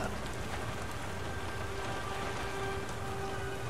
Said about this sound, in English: Goddamn rain. Don't look like it's ever gonna let up.